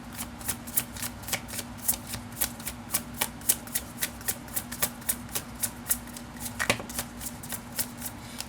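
Tarot cards shuffled by hand in a steady run of soft riffling slaps, about two each second, fairly close and continuous across the whole stretch, with a faint low hum in the background.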